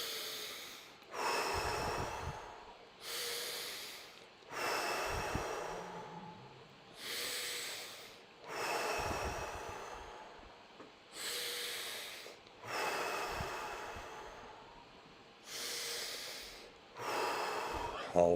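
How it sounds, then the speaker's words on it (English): Slow, deep breaths during a guided breathing exercise, each a long forceful inhale followed by a pause, repeating about eight times in an even rhythm, close and fairly soft. "Deep breath in."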